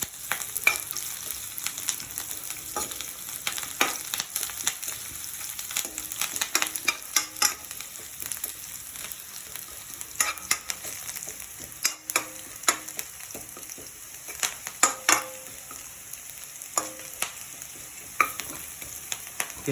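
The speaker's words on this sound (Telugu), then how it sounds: "ఇప్పుడు కరివేపాకు, అలాగే ముందుగా ఉంచుకున్న అల్లం వేసి కొద్దిగా ఫ్రై చేసుకోండి." Curry leaves and ginger fry in a pan for cashew upma, giving a steady crackling sizzle with scattered sharp pops and stirring clicks throughout, no voices.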